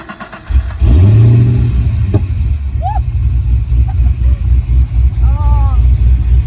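A Holden VF Commodore V8 starts with a sharp burst, then revs loudly up and down, a deep rumbling exhaust close by, with brief voices heard over the engine.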